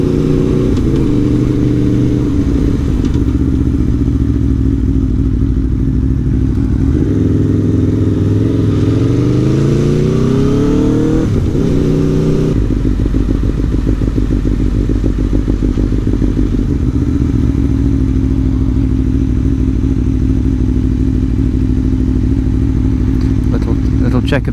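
An Aprilia Tuono V4 1100 Factory motorcycle being ridden, its loud engine droning continuously with shifting pitch as it accelerates and changes gear, close and dominant throughout with constant wind rumble.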